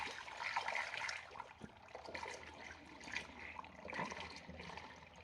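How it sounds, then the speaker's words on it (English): Homemade Jamaican sorrel Christmas drink pours through a funnel into a glass bottle, a soft, steady liquid trickle that swells and eases, close and without talk. "Pour this into the funnel."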